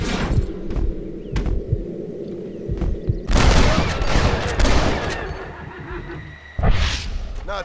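Pistol shots ring out in a shooting contest in the Red Dead Redemption video game: a few sharp single cracks, then a long, dense volley and another burst, with voices talking in between.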